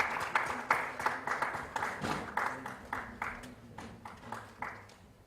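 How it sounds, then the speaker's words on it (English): Sparse applause in a conference hall at a sociology conference inaugural session in New Delhi, welcoming a professor to the dais; distinct uneven claps from a modest audience, moderately quiet, tapering over about five seconds. "Can we have a big round of applause"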